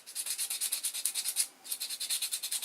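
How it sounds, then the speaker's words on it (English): A homemade hard fishing lure is sanded by hand in quick, even back-and-forth strokes, a close, rhythmic rasping that pauses briefly midway and then resumes, with no voices. "I'm sanding a bit quicker than I normally do"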